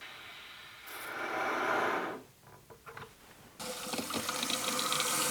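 Water rushes steadily into a toilet tank on a newly installed toilet, pausing briefly with a few mechanical clicks before the filling hiss resumes louder and continues.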